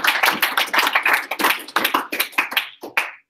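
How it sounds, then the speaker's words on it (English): A small room of marketing students applauds an interview guest, with a dense run of close, crisp hand claps that thins out and stops after about three seconds. "let's give her a round of applause"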